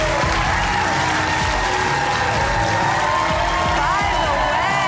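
Large crowd cheering and applauding in old Lily Singh stock footage, a dense continuous roar of claps and voices with whistle-like tones rising near the end.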